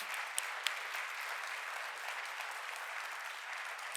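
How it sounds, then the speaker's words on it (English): A conference audience at a health summit applauds its panel speakers before a break, a dense, even roar of many hands clapping at a distance, steady and sustained with a couple of sharper claps near the start. "give a round of applause of our amazing speakers"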